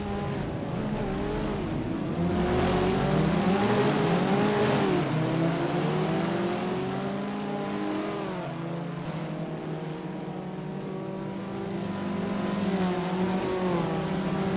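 A pack of Abarth 500 race cars in Assetto Corsa pulls away at a race start on the Pau street circuit, engines droning and revving in overlapping, rising and falling tones that stay loud and continuous throughout.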